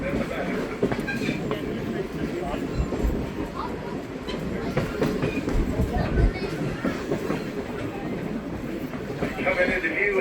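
The Blue Ridge Scenic Railway train rolls along mountain and river track with a continuous rumbling clatter from a passenger car, steady and fairly loud throughout with no pauses.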